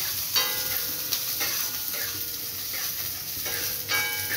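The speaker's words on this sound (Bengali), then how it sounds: "ছোলার ডালটা যখন কিছুটা ভাজা হয়ে যাবে, ঠিক একটু লাল লাল আসবে" Chana dal fries in a pan for a coconut chutney, a continuous close sizzle broken by several scraping stirring strokes at irregular intervals, with no one talking.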